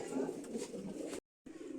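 Racing pigeons, back at the loft after a 40 km race, coo softly and steadily, with a brief silent break before the cooing resumes.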